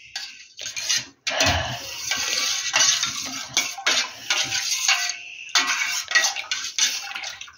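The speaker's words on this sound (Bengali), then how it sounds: "গুঁড়ো দুধটা থিতিয়ে যাবে, আমি আস্তে আস্তে এটা গুলে নেব।" A spoon stirring powdered milk to dissolve it, clinking and scraping steadily against the vessel in close, repeated strokes with short pauses between bursts.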